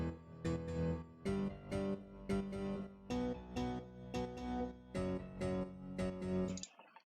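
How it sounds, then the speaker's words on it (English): Piano chords in an electronic music production track, struck in a steady rhythm of repeated notes with sustained tones, loud and alone with no talking, cut off abruptly near the end. "Piano sounds like this."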